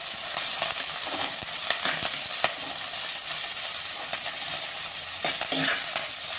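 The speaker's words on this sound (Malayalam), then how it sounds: "കരിയാപ്പിലയും കൂടെ ഇടുന്നുണ്ട്. ഇനി അത് ഇളക്കിയെടുക്കണം." Fish curry base fries in a pan with curry leaves while being stirred: a steady close sizzle with scattered scraping and clinks from the spoon, continuous and without speech.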